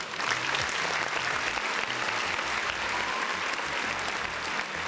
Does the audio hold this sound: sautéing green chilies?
no